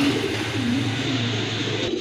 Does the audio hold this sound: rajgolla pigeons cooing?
yes